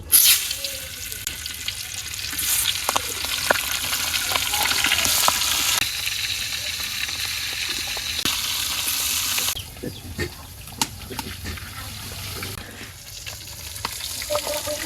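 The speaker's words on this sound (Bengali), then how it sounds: "ইলিশ মাছটা আগে ভাজিয়ে নিব" Hilsa fish, rubbed with salt and turmeric, fries in oil in a wok. Loud, close crackling and sizzling carries on throughout, surging and easing as pieces shift, with occasional utensil taps.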